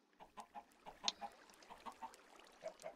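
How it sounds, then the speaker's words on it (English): Video-game chickens cluck softly in a steady series of short, clipped calls, fairly quiet and evenly spaced, with one brief higher squawk. "Oh, the chickens. I forgot about chickens."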